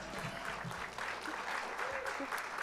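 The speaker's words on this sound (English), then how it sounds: "Let's give her another round of applause." An audience at an education awards ceremony in San Diego applauds steadily for an award sponsor, a dense, fairly distant wash of clapping over the whole stretch.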